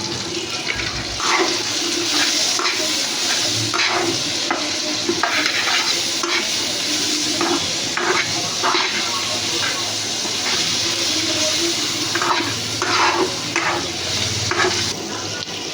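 Onion and vegetables frying in a pan for chowmein, a continuous loud sizzle and hiss with regular scraping strokes of a spatula throughout.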